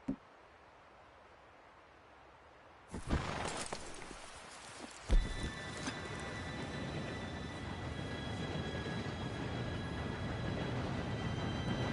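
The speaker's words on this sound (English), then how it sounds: "Train should be here any minute now." Train arriving in a PS4 video game: after a quiet stretch, a sudden loud burst and then a second hit give way to a sustained, heavy rolling rumble with a metallic ringing tone layered over it, steady to the end.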